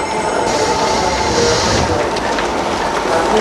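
A commuter train runs along the rails, loud and close, a continuous rumbling roar with wheel squeal and faint clickety-clack from the carriages throughout.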